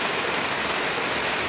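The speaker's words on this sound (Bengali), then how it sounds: "ওইদিকে বৃষ্টি হচ্ছে" Steady hiss of rain falling somewhere nearby, even and moderately quiet with no voices over it.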